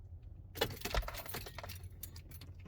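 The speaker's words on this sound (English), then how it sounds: "And now we can turn off the ignition." Keys jangle in the ignition of a Ford Transit as it is switched off, a close burst of metallic rattling and clinks that trails off into quieter jingles.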